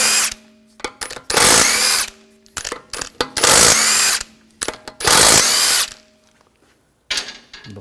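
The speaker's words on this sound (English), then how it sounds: "take the lug bolts off." A power tool with a 17mm socket spins the lug bolts off the wheel of a 2004-2009 Audi A4 Quattro: three loud sustained whirring bursts, separated by short blips and brief ratcheting taps, close up with no talking.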